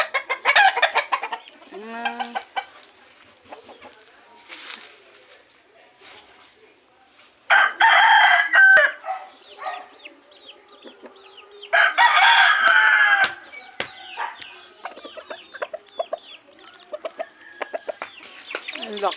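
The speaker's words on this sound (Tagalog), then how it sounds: "Mga tindig ng mga manok ko." Backyard chickens and roosters on a Filipino poultry setup crow loudly in repeated long calls, interleaved with scattered clucking, some close and some farther off, with a voice occasionally talking among them.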